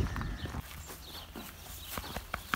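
Retired horses kept naturally on Mallorca, walking with scattered hoof clip-clops at close range over a soft outdoor background, with a few sharper knocks near the end.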